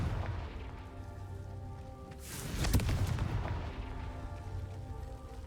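A Confringo fire spell in Hogwarts Legacy goes off as one loud, whooshing blast that peaks and then rumbles away, heard over a dense, noisy game background with no speech.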